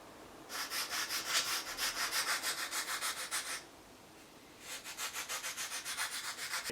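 Sandpaper worked freehand over a soft balsa wood fishing lure, two runs of quick, even back-and-forth rasping strokes separated by a brief pause, close and fairly quiet.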